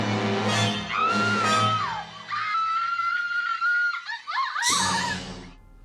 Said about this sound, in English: But what is the secret of a good scream?